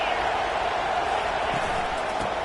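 A football stadium crowd roars steadily before a big third down, a continuous broad wash of cheering voices at constant loudness with no distinct individual calls.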